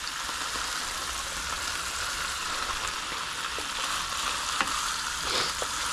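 Red snapper simmers in a pan inside a campervan, giving a steady, gentle sizzle and crackle of hot oil, with a few soft pops and no voices.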